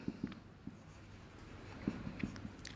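A pen scratches across paper in short irregular strokes, soft and close, with brief pauses between bursts while math limit notes are written out.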